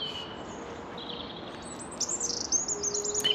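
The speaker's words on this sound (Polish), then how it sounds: "Te dźwięki, te ptaszki, ta cisza, po prostu cudownie." Birds chirp and trill over a soft background hiss, with several high calls growing louder and busier toward the end.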